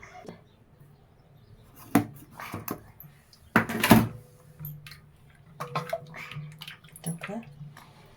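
Water is added to rice flour batter for ghavne and stirred in, producing uneven wet sloshing with sharp clinks and scrapes against the vessel.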